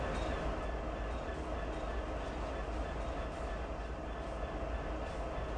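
Freight locomotive in Train Sim World 3 at Cheyenne yard on Sherman Hill, a steady dense rumble with broadband engine noise held at constant loudness throughout.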